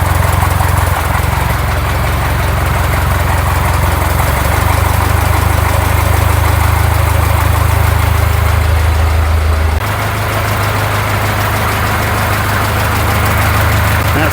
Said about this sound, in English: that new 8N exhaust on it doesn't sound too bad